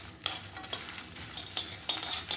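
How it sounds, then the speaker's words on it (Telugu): Dry spices and coconut for vangi bath masala are stirred in a pan, giving repeated close scraping and clinking of a utensil against metal in an irregular rhythm. "ఇవన్నీ బాగా మిక్స్ చేస్తూ ఉండాలి."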